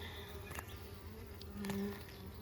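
Honeybees buzz steadily around an opened backyard hive at close range, a continuous drone with a couple of brief louder passes as individual bees fly near.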